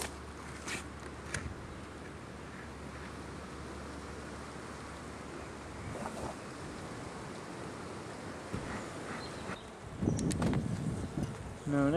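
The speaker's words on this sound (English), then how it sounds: "the bees are going to be agitated today" Bees swarm and buzz around an opened hive on a cool day, a constant close, droning hum with individual insects passing near, plus a brief handling clatter toward the end.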